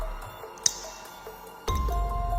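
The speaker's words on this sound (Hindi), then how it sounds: "उसके चारों ओर पानी की बूंदें टपकने की आवाज गूंज रही थी" Sparse water drops fall and plink in a dark, cold cave, ringing out as a few quiet, separate pings over a low, hushed background.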